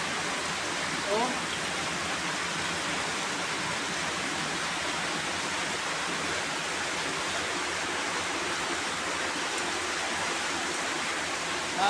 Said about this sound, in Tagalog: Grabe ang ulan. Napakalakas.